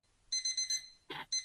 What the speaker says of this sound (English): as we can hear the alarm going off